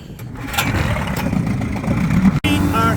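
A 15hp Ted Williams outboard motor on a 14ft aluminum boat, started with the choke on, catches and runs with a steady mid-pitched engine drone. Faint voices sit underneath, and a brief cutout comes near the end.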